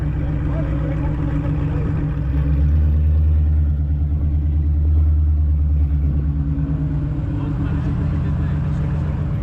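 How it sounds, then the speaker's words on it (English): A supercharged Whipple Shelby GT500 idles at a car meet, a loud, steady, deep engine rumble that swells briefly in the middle, with faint voices in the background. "Here's the newly whippled GT500."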